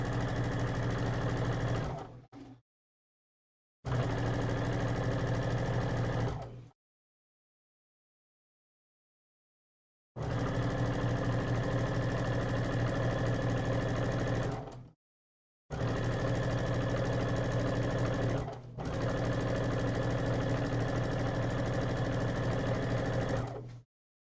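A sewing machine stitches long seams in four sustained runs of several seconds each, separated by short pauses and silent gaps, its steady motor hum loud and close.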